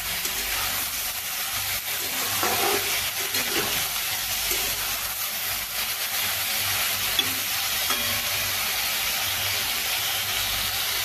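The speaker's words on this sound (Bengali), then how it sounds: "নুন মিশিয়ে এই ঝিঙেগুলোকে বেশ ভালোভাবে আমি ভেজে নেব।" Salted ridge gourd fries in a pan with a steady, loud, continuous sizzle and hiss, joined by occasional scraping stirs; no voices.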